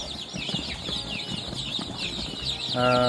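Busy cheeping of over a hundred three-day-old chicks fills the scene, high and constant, with a louder steady hum joining near the end.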